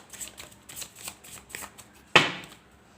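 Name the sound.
tarot cards being shuffled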